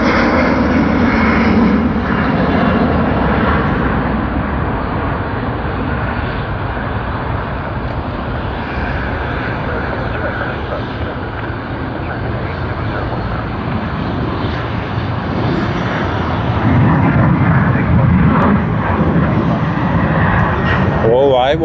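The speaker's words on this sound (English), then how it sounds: "5J40 Sydney to Manila. They are already on their takeoff roll." A jet airliner on flight 5J40 from Sydney to Manila roars down the runway on its takeoff roll at Sydney Airport, a loud, sustained engine rumble that swells again toward the end while a person talks over it.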